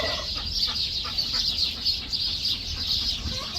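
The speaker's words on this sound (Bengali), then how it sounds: "দুটোটাই মোরগ লড়াই করতেছে, যুদ্ধ চলছে একটার সাথে আরেকটার সাথে" At a duck and chicken farm in Saudi Arabia, two roosters fight while chickens cluck in quick, busy, overlapping calls, moderately close and continuous, with no voices.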